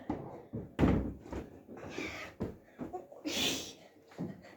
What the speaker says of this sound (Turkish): Dolaba çarptı da ben şaşırdım.